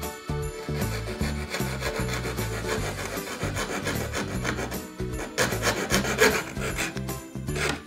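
A hand fretsaw cuts a wooden Christmas tree shape with a steady, rhythmic rasping of rapid close strokes that continues without a break, no talk over it.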